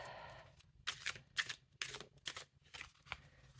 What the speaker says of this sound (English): Slippery cards. Put them like this. Very slippery cards.